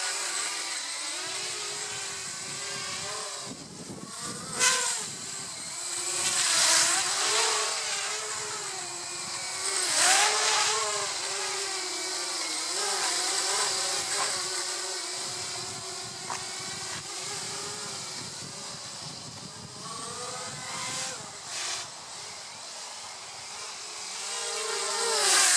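A Blade 200qx RC quadcopter flies at speed in agility mode, its rotors giving a steady whirring buzz that rises and falls as it swoops and turns, sometimes closer and sometimes farther away, with no talking.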